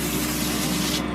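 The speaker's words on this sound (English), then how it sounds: "I just take like some of the olive oil spray, cooking spray, and I just like spray" Olive oil cooking spray hissing steadily from an aerosol can onto asparagus, one continuous close, loud spray that cuts off at the end.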